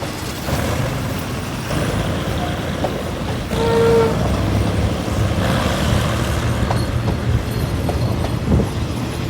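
A diesel locomotive rumbles past nearby over railway switch number 10 near Nong Pla Duk, Thailand, with a steady heavy roar, punctuated by clanks and rattles of wheels crossing track joints, no voices.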